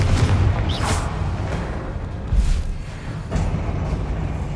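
A Confringo blast spell explodes in the Hogwarts Legacy video game, giving a deep booming burst followed by rumbling impacts and a second heavy thud, loud and close.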